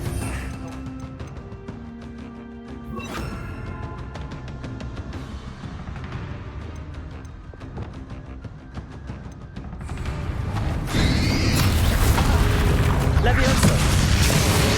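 A Confringo fire spell bursts in Hogwarts Legacy, a heavy booming blast that swells loud in the latter seconds over a busy battle din, with voices heard in the mix.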